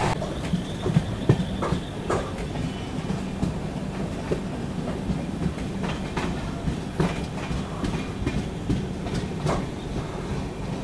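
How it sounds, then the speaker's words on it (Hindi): The Donyi Polo Express passenger train runs at about 100 km/h between Naharlagun and Guwahati, its wheels clattering rhythmically over rail joints with a steady rumble and periodic sharp clicks, heard from on board. "स्पीड आप लोग देख सकते हैं 98, 99, 100 मेंटेन करके चल रही है अपनी ट्रेन"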